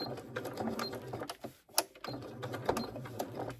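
A sewing machine stitching through the layers of a handbag, running in close mechanical bursts with a brief stop midway before it resumes its rhythmic whirring.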